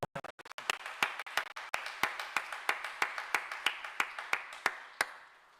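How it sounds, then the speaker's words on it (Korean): A church congregation gives a short round of applause in welcome during a Sunday morning service, ragged at first and then settling into a steady, evenly spaced rhythm of claps that stops abruptly. "따뜻한 박수로."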